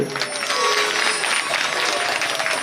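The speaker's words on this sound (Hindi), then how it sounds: "फिर एक बार तो फिर ताली बजा दी" Audience applause at a Bhagwat Katha religious gathering, a steady, dense wash of clapping from a crowd that holds evenly throughout, with a faint tonal line and some voices mixed underneath.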